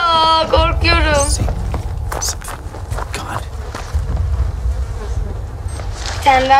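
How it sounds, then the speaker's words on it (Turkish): Steady insect-like buzzing of flies in the video game Outlast 2 hums throughout, with a brief voice at the start and again near the end. "Bir sürü de sinek var."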